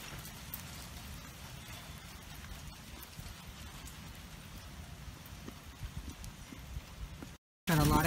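Hail falls steadily in Lake Elsinore, a continuous patter of pellets striking the ground and nearby surfaces, with a low rumbling undertone and a brief loud burst right at the end.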